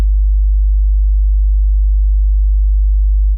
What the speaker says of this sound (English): I'm playing from my audio channel the sine wave on 50 Hz